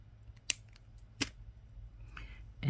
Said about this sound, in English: Now we want to cut this little bit of line off here.